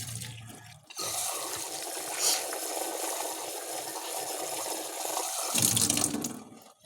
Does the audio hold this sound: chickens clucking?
no